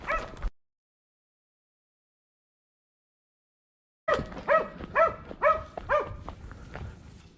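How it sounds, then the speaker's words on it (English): Hunting dogs bark loudly during a wild boar hunt: one short bark, a silent gap, then a rapid close burst of repeated barks and yelps. "Suddenly, the dogs barked loudly."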